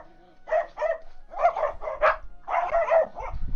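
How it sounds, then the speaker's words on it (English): Dogs barking in repeated bursts indoors, fairly loud and close, with yips mixed in and a person speaking between the barks. "Oh my gosh, dogs."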